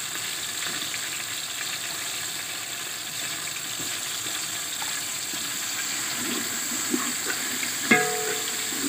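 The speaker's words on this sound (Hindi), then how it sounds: "ये चिकन आप देख सकते हैं हल्की आंच पर इसको ब्राउन कर रहा हूँ।" Chicken browning with onions and spices over low heat gives off a steady, soft sizzle and hiss that runs unbroken, with a light clink near the end.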